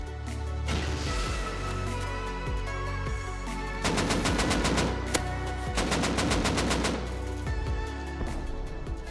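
Rapid automatic gunfire in the game Rust, long sustained bursts of sharp, evenly spaced shots repeating across the whole stretch, loud and close with a brief lull between volleys.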